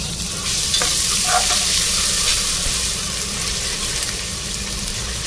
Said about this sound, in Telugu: అల్లం వెల్లుల్లి పేస్ట్ కొద్దిగా వేయించి